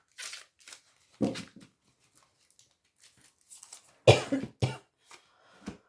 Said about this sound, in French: Désolée pour ma toux